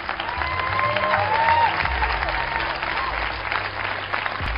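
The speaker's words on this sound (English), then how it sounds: "why are they clapping about the numbers?" Audience applause fills a church service, a steady wash of many hands clapping at close range that holds for several seconds, with a faint tonal bed and murmur underneath.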